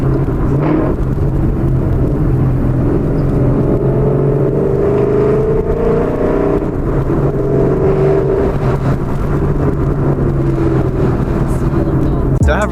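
A 2013-2014 Ford Mustang GT 5.0 cruises up to the speed limit, its engine giving a steady loud low rumble and drone with smooth rises in pitch under constant road noise.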